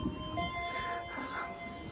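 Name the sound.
New Generation stainless steel passenger train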